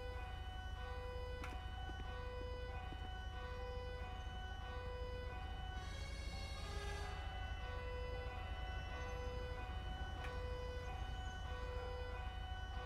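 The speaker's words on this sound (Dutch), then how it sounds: "Waarom nou weer die sirene?" Siren wailing in the video game FiveM during a Haarlem police roleplay, a steady looping electronic tone cycling continuously at close, constant loudness, with no talk over it.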